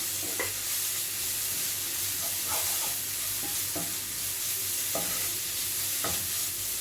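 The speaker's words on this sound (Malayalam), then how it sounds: "അതിന് ശേഷം നല്ലോണം ഒന്ന് മിക്സ് ചെയ്ത് കൊടുക്കുക" Chicken and egg bun filling stirred in a pan, several distinct spatula scrapes spaced a second or so apart over a soft continuous sizzle, close and without talk.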